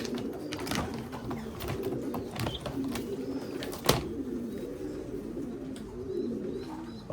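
Racing pigeons coo softly in a loft, low rolling murmurs repeating throughout amid faint rustling, scratching and a single sharp knock.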